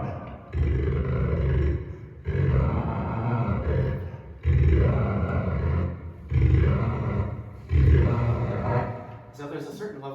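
A daxophone, a bowed wooden tongue instrument, is played through an amp simulator in five long, growling, roar-like strokes separated by short pauses, loud and close, like a large animal's groans.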